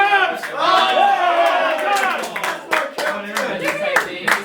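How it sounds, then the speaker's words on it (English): Football teammates clap in a short burst of applause while voices cheer and shout over it. "Round of applause for Terms!"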